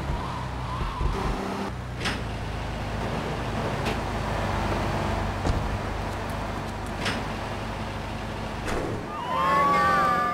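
A taxi drives in Grand Theft Auto III, its engine holding a steady mid-level drone with brief tire noise, and a rising whine and skid toward the end.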